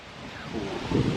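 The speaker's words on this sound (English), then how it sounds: "It's windy." Wind buffeting outdoors on a sunny day where someone is out for a motorcycle ride, a steady broadband rush that swells louder in a gust toward the end, with no talking.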